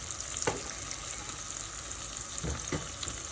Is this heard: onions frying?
yes